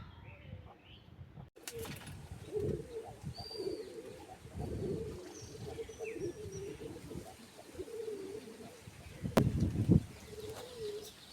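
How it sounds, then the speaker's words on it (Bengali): Pigeons coo repeatedly nearby in low, rolling calls at a morning rooftop loft, with a few sharp knocks and some faint background voices. "দেখুন কবুতরগুলো।"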